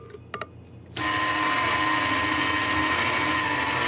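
An electric stand mixer starts abruptly after a few soft clinks and then beats cream cheese frosting with sifted icing sugar in a steady, loud, whirring drone.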